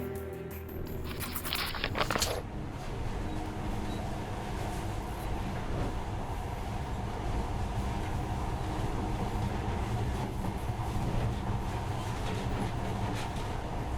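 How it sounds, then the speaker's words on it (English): A steady, loud rumble and rattle of a monorail carriage riding through the ruined world of Metro Last Light Redux, continuous and close throughout with no voices. "But now, this monorail seems magic, doesn't it?"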